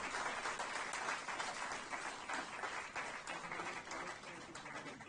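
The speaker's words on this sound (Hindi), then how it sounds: "तालियां बजनी चाहिए तो अच्छे से बजनी चाहिए भाई।" Audience at a speech about Chhatrapati Shivaji Maharaj claps, a continuous, faint wash of crowd applause heard at a distance, steady throughout with no voices on top.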